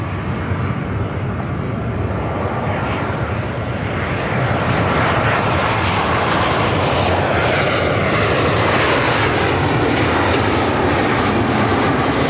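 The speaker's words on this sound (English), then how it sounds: "This is Spirit Airlines 199 coming in from Las Vegas on the A320." A Spirit Airlines Airbus A320 landing, arriving from Las Vegas, makes a loud, continuous engine roar that holds steady and swells slightly as it passes close by, with no talk over it.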